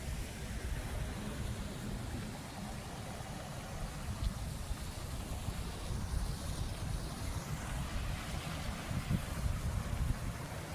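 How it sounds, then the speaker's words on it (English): Steady rushing water from a waterfall beside a walking trail near Kitchener-Waterloo, a continuous broadband roar heavy in the low end, with some wind buffeting the microphone and no talk. "There's a beautiful waterfall."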